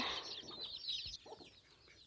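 Hens clucking in a farmyard among goats and ducks, a few close, soft clucks and squawks in a short, unevenly spaced burst.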